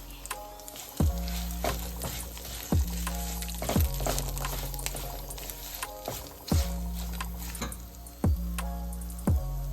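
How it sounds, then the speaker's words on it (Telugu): Urad dal frying in a pan for chutney, a steady close sizzle broken by several sharp stirring clatters at irregular intervals. "పప్పు కొంచెం ఎర్రగా వేగాలి"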